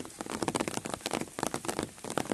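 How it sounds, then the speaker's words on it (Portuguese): Steady late-afternoon rain on a rural farm patters and crackles on a surface nearby, dense and irregular, with no voices. "A chuva só tá chovendo."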